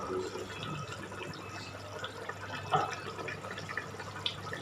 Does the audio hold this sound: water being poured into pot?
yes